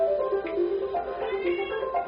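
A cat gives a few short, close meows in quick succession, each rising and falling, with no other voices over them.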